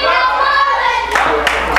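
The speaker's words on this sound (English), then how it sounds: "And the fans cheering for Rocco." Wrestling crowd at a match cheering and clapping for Rocco, a loud sustained roar with scattered claps breaking through near the end.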